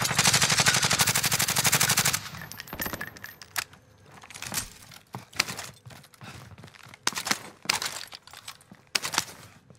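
SMG gunfire in a battle royale game opens with a long, loud sustained automatic burst, then breaks into short, sharp bursts spaced irregularly with quiet gaps between them.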